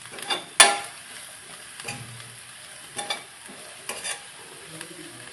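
Jaggery being stirred into a cooking mixture: a sharp spoon knock on the pot, then intermittent scraping stirs over a low sizzle, close and without talk.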